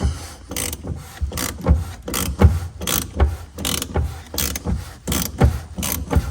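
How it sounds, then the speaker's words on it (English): Ratchet clicking as it turns a 36mm socket on the fuel filter housing of a Vauxhall Mokka 1.6 CDTi, loud close rhythmic bursts of pawl clicks repeating roughly every half second. "we've got the 36mm socket on. Let me just spin it like so"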